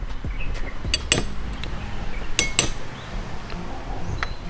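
Prawns being mixed with salt and turmeric powder in a bowl, heard as sparse metallic clinks and taps of a utensil against the dish amid quiet kitchen background.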